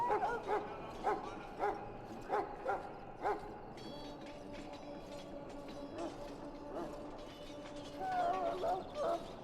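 Wounded dog in a Dragon Age Origins fantasy game whining and giving short yips and barks in a repeating pattern, mid-distance and moderately loud, mixed with other game sounds.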